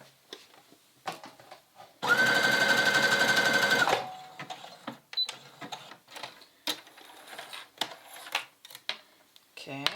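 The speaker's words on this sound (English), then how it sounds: "I'm going to do a zigzag stitch" A sewing machine runs a zigzag stitch on a dress liner in one loud, steady two-second burst of rapid needle chatter, with soft handling clicks and rustles of fabric before and after.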